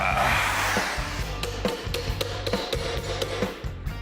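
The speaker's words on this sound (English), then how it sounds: "make a little dolly tool that we can hammer the thing back into shape with" Hammer blows against an improvised dolly tool while a dented panel on a custom train truck is reshaped, a series of sharp close metallic taps over a low rumble, with no talk.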